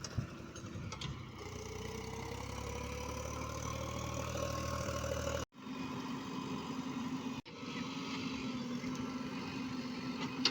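JCB loader engine running steadily while gathering debris, a low continuous diesel rumble with a rising whine from the machinery, fairly distant and heard alone, briefly cut twice.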